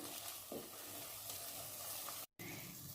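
Capsicum and onion frying in a kadai for kadai paneer, a soft continuous sizzle with a faint stir, quiet and close, broken by a brief silent gap near the end.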